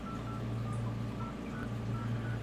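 A cell phone dials an office number, giving a run of short, evenly spaced DTMF keypad tones over a steady background hum, with no talking.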